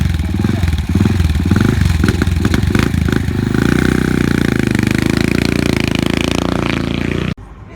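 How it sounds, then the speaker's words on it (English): A Triumph Avenger 500 motorcycle with twin exhaust runs loud and close at an outdoor rally, its engine revving and settling into a steady rumbling idle before cutting off abruptly near the end. "Triumph Avenger 500, complete with A-twin exhaust on the original."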